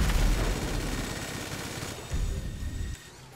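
Rapid gunfire in the video game GTA 5, a dense, loud burst of continuous shots and rumbling effects that thins out near the end.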